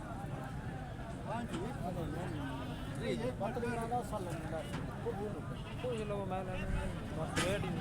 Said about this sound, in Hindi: ये बकरा माशाल्लाह देख रहे हैं सामने।